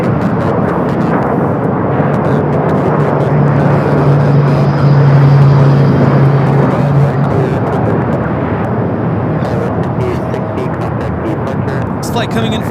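An airliner on approach to land at LAX, a flight arriving from Vancouver, roars loudly and steadily with broadband jet noise throughout, swelling slightly in the middle, while voices murmur faintly underneath.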